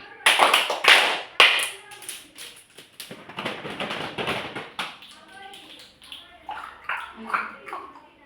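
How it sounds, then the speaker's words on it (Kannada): Children run through the Nali-Kali clap routine, a dense volley of rapid group claps at first, then sparser taps and claps under chanting voices in a rhythmic pattern. "ಓಕೆ. ನಲಿಕಲಿ ಚಪ್ಪಾಳೆ."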